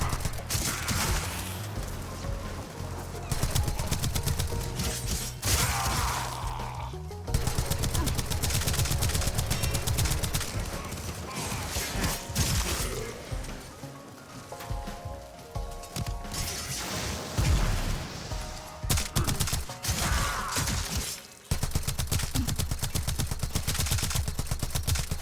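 Bursts of rapid gunfire from the video game Warframe, repeated throughout a busy mix of game effects and music, loud and continuous with brief gaps.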